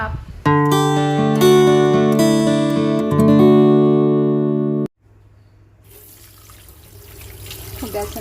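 Tap water runs into a sink as shrimp paste (bagoong) is rinsed to remove its saltiness. The steady running water follows a few seconds of melodic background music.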